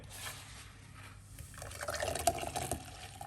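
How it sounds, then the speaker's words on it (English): Liquid pours into a glass, a soft trickling that grows into a brighter, gurgling fill with a few splashy drips, close and fairly quiet. "pour it out into our glass right here"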